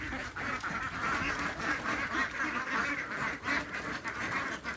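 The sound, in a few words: ducks quacking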